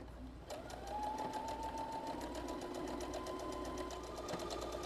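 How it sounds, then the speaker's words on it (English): A Brother Innovis NS80e sewing machine stitches a blind hem on folded fabric, a fast, even mechanical rattle of needle strokes that runs steadily and close after a brief quiet start. "we're going to do a blind hem"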